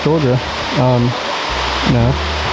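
Waterfall on the Trail of Ten Falls at Silver Falls State Park, Oregon, giving a steady, even rush of falling water that runs unbroken beneath a person talking throughout.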